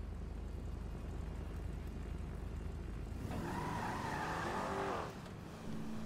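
Tires squeal under a revving car engine in the video game GTA V, a sustained screech rising mid-clip over steady engine drone, then easing off as the engine continues.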